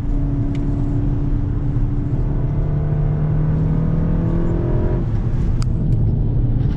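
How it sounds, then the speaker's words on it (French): A Volkswagen Golf VII GTI Performance engine drones steadily and close, its pitch rising under load, then easing off, with a few sharp pops from the turbo or exhaust near the end. "il y a un petit retour de turbo ou d'échappement"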